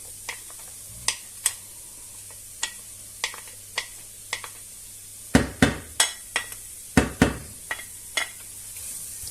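Onion and garlic going into hot oil in a pan, with a faint continuous sizzle under a series of sharp, close utensil taps and scrapes that grow busier in the second half.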